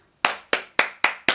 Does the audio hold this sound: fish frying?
no